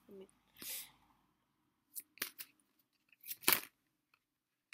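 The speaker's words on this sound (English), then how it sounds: "I don't know why I'm shuffling this." Tarot cards are shuffled by hand in a few soft, short swishing bursts with quiet pauses between them, faint and close.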